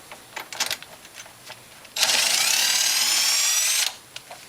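A power drill spins a homemade tool built from a spark plug socket and two washers, pulling brake cables on a Honda Recon 250 ATV; one steady, loud whirring burst of about two seconds after a few faint clicks and taps.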